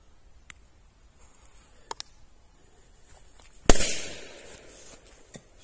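A firecracker bursts inside a metal can during outdoor testing, one sharp loud bang followed by a short fading rattle of debris, with a few faint clicks beforehand.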